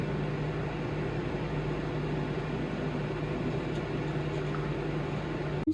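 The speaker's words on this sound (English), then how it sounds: "I'm gonna then put it in the microwave." A microwave oven heats a cup of hot chocolate, giving a steady, even hum with a low mains-like drone that runs unbroken for the whole stretch and ends in a brief click near the end.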